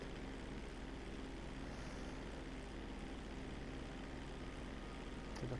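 A propeller airplane droning steadily in flight inside GTA 5, a continuous mid-to-low engine hum holding an even level throughout, with a brief louder bump near the end.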